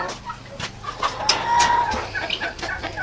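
Guinea fowl calling on a farm, a few short harsh cries rising over a busy outdoor background at moderate distance, with no talking.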